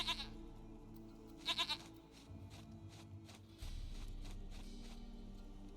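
A goat in a video game gives a short bleat, then a louder triple bleat, over a low game soundscape with soft footsteps and a deeper rumble entering near the end.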